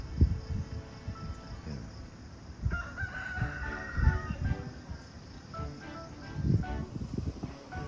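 Roosters crow several times at a middle distance over steady outdoor ambience, with faint insect chirping in the background.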